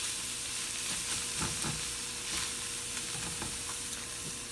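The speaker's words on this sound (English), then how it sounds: "I'm also frying the hamburger and onions." A quarter pound of hamburger and onions sizzle steadily in a pan, a continuous loud hiss and crackle with occasional soft scrapes of stirring.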